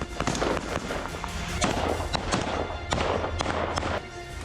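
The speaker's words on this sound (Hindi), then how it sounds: "उसके बाद ताबड़तोड़ फायरिंग की गई।" Rapid gunfire during a military operation against a militant, a dense burst of sharp cracks and thumps in quick succession, loud and close, continuing throughout with no talking.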